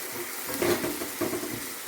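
Partly cooked chicken pieces in spice masala hiss softly in a pan while being stirred, a close, steady frying noise with a couple of brief scraping swells.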